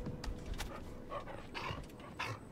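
Dog in the Until Dawn remake game barking and panting in a few short bursts, fairly close, with steady ambient background noise and no talking.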